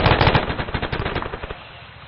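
A MAAWS recoilless rifle fires during military platoon training: loud, sustained broadband blast and rumble at close range, with rolling echoing reports that decay over about two seconds.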